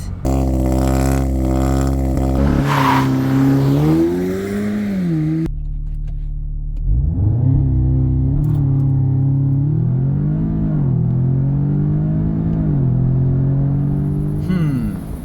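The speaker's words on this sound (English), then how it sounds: "I mean, look how fast this car can accelerate." An Audi S3 engine revs hard and loud, dropping briefly between gear changes before the note climbs again under sustained acceleration, heard close from inside or near the car.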